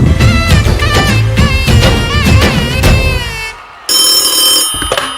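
A telephone ring plays as a sound effect during a school annual day stage play. Music runs first, then a brief hush, then a loud, sustained electronic ringing tone.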